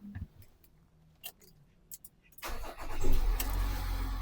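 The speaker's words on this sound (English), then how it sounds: "Now I'm going to start the car and move to the next process" A VW Amarok pickup truck with a blocked DPF cranks and fires up after a few faint clicks, then settles into a loud, steady idle that stays close and continuous.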